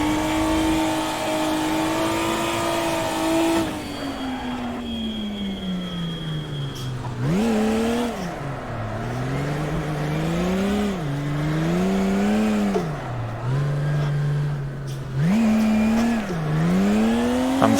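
Car engine held at full throttle while drifting and breaking grip, a loud droning tone that dips and surges repeatedly as revs rise and fall, with tire noise underneath.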